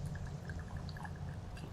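Vodka pours into a metal cocktail jigger, measured at one and a half ounces, as a steady close liquid trickle over low background hum for under two seconds.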